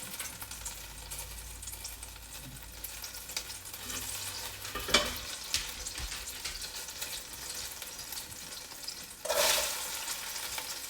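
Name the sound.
carrots and onions frying in olive oil in a pot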